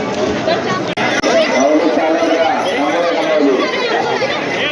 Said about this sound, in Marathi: गर्दी तर खूप आहे